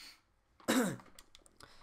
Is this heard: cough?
yes